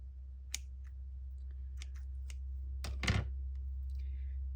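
Scissors snip thread for stitching journal signatures, a few quiet crisp clicks and one longer snipping burst over a low hum.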